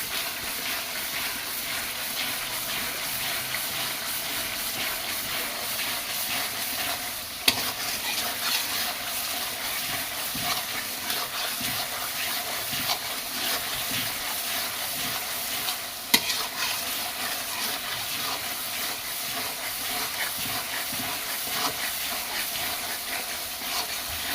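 Tengra fish is lightly sautéed with beans and tomato in a pan, giving a steady close sizzle and hiss with constant stirring scrapes and two sharp clinks along the way; no one speaks.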